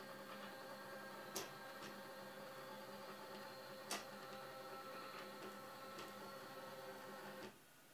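A printer in an art installation moving its print head back toward its home position: a faint steady mechanical whir and hum with a few sharp ticks and clicks, ending in a quieter drop as the motion stops.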